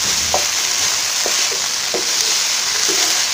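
Potatoes, beans and cauliflower sizzle steadily in a frying pan, a loud continuous hiss with a few light scraping stirs of a spatula, no talking.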